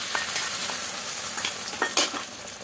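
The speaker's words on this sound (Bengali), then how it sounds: "হয়ে গেছে, এবার ডিমের গোলাটা দিয়ে দেবো।" Beaten egg mixture hits an oiled pan for street-style egg toast and fries with a continuous crackling sizzle, punctuated by light scraping stirs and taps, with no talking.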